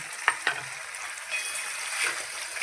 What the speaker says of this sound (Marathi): ते छान हे तेलामध्ये परतून घेणार आहे